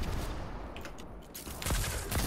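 Rifle gunfire in Fortnite, scattered sharp shots against a busy game background, a few cracks early and a louder cluster of bursts near the end.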